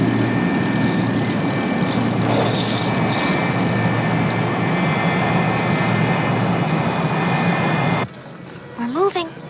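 Airliner engines roar loudly and steadily as the plane begins its takeoff roll, a dense continuous drone with a high whine, cutting off abruptly near the end and leaving quieter background.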